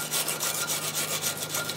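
A wire brush scrubs a freshly brazed metal joint in quick back-and-forth strokes, producing a steady close raspy scratching with an even rhythm and no voices.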